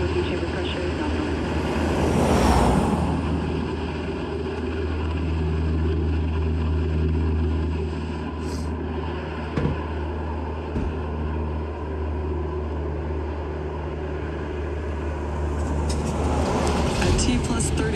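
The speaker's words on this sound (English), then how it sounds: "Falcon 9 has successfully lifted off from Space Launch Complex 40 at Cape Canaveral Space Force Station" A SpaceX Falcon 9 lifting off from Space Launch Complex 40 at Cape Canaveral on the NROL-77 mission, a loud, sustained, rumbling roar that holds steady throughout with slight surges.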